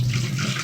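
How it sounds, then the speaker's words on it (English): Water pouring out of a Mr. Coffee coffee maker's glass carafe, a short, steady close splashing stream with no talk. "Now we need to pour out this water until the 10 cups marking."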